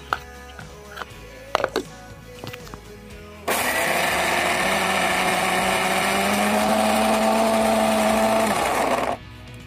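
A blender grinds green peas, green chillies, ginger, cumin, turmeric and salt into paste, a loud steady whirring motor that starts abruptly after a few quiet kitchen clinks and runs continuously for about six seconds before cutting off.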